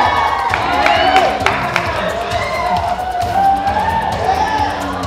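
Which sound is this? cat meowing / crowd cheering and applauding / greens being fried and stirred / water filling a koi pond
crowd cheering and applauding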